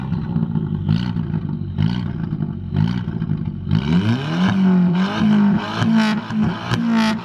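A straight-piped Audi TT Mk1 engine revving repeatedly, short rhythmic blips at first, then a sustained loud bouncing off the rev limiter with a harsh rasping exhaust, close by.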